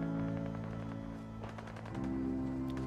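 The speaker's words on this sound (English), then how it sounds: "Gunfire!" Gunfire in the video game Fallout 4, a quick burst of shots cutting over a steady low hum, fairly quiet and heard alone.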